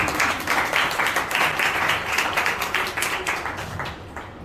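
Audience applause for students at an intern felicitation ceremony at a school, a dense crowd of clapping hands, steady and fairly loud throughout before easing slightly at the end.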